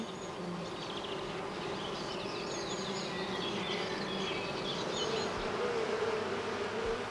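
Honeybees buzz around their colony in a continuous, moderately quiet drone of many wings, with individual bees rising and fading close by.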